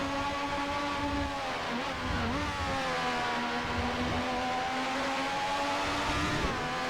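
Williams FW11B turbo Formula One car in the Assetto Corsa racing game, its engine whining and climbing through revs with brief dips at gear changes, a continuous loud high-pitched drone with no voices.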